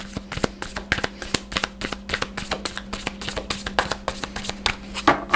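Tarot cards being shuffled by hand for a reading, a steady run of quick riffling flicks and soft taps, close and continuous.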